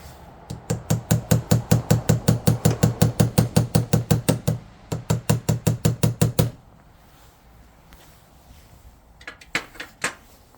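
Rapid, evenly spaced tapping on a car's license plate light to seat it in place, a loud close run of about two dozen sharp knocks, a short pause, another burst, then a few scattered taps.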